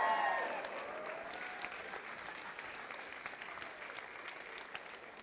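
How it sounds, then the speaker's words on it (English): Wedding guests at a Hindu Vivaha ceremony give the priest a round of applause, dense and sustained, loudest at the start and then settling to a steady patter; a voice is briefly heard as it begins. "priest, everyone, a big round of applause."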